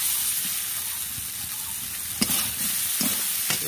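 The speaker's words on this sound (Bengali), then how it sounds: "মশলাটা আলু একটু মাখামাখি করে নিচ্ছি" Potato curry being mixed with ginger paste and spices in a hot pan, a constant sizzling hiss with soft stirring scrapes and a few sharper clinks, close by and with no voices.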